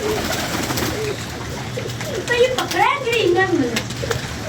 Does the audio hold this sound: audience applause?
no